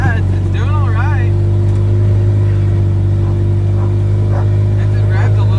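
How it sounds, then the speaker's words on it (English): A Mazda project car's engine idles and revs high on its first drive, a steady loud droning hum with a strong low tone, while people talk over it. "Engine rev's a little bit high."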